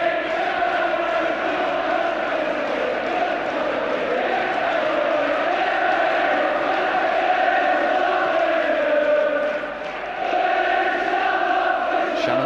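Manchester United supporters roar and chant in a packed stadium during a 1976 FA Cup match against Southampton, a steady dense crowd din that dips briefly near the end before swelling again.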